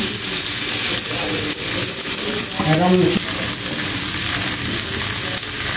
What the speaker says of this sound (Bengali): এখন আমি কচুরমুখীগুলো দিয়ে দিব, সাথে দিয়ে দিব চেরা কাঁচা লঙ্কা